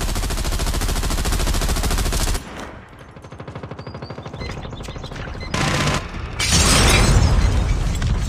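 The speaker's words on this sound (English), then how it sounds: "Be advised, hostile sentry gun spotted." Sustained automatic gunfire from a hostile sentry gun in a Call of Duty Cranked match, loud and dense for the first seconds, then thinner bursts and booms with mechanical clatter, swelling again near the end.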